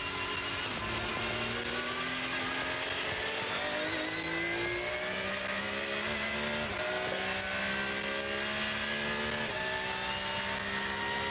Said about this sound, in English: Just listening to that Porsche engine purring across the line.